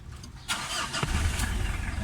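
A Mitsubishi Adventure engine cranks and catches after a quiet moment, settling into a low, steady idle close by.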